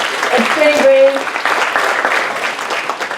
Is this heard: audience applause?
yes